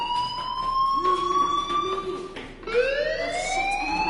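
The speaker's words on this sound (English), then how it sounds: "do you hear that fire alarm?" A fire alarm rings in the Life is Strange video game, a loud wailing electronic tone that sweeps and pulses, dips briefly, then rises again, heard alone without talk.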